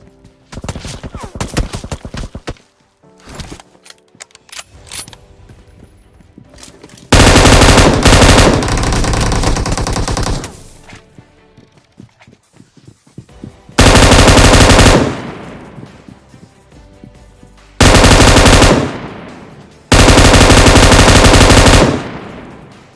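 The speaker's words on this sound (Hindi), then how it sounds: "अब दो बंदे नॉक है तो मैं M249 रिलोड करके रश करता हूँ" M249 light machine gun fire in a video game, arriving as four long, loud, sustained bursts of rapid automatic shots, separated by quieter stretches of clicks, footsteps and game noise.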